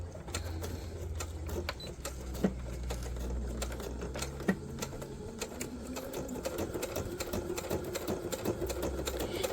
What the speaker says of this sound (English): You know, the machine may not like going through the cardboard,